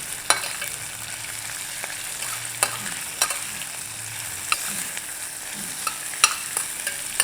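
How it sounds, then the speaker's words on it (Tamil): Onion, green chili and ginger fry in a pan, giving a soft, steady sizzle. Light stirring clicks and scrapes break in at intervals, with no voices. "இந்த ஸ்டேஜில் வெங்காயத்தை போட்டுடலாம், பச்சை மிளகா, இஞ்சி."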